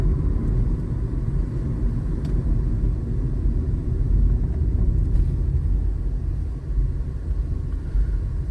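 A Volkswagen Virtus cruising on an expressway, heard from inside the cabin as a loud, continuous low road and engine rumble that stays steady throughout with no talk.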